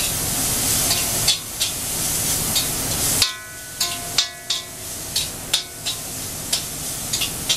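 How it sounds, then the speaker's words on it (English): Pea pods and carrots frying in a pan for pad thai with chicken, stirred constantly: steady close sizzle broken by repeated scraping clatters of the utensil against the pan, no talking. "we're just going to keep moving these around until the pea pods are cooked"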